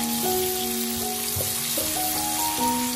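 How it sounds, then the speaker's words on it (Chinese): Ginger, garlic and small chili peppers stir-fry in a hot wok, giving a steady, close sizzle throughout, with sustained tonal notes running underneath. "然后把姜蒜和小米辣加进来，继续炒香。"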